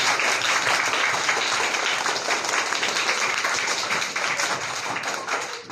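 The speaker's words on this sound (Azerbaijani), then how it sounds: "Analarımıza gəlin bir alqış gəlsin" A school class applauds the mothers at a school event: dense, loud clapping from a group that holds steady for several seconds and fades a little near the end.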